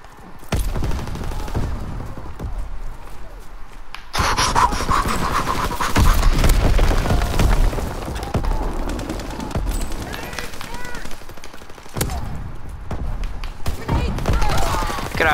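Loud, sustained automatic gunfire and rapid shots from a Call of Duty: WWII match, dense bursts running nearly throughout with brief lulls, with a player talking over it.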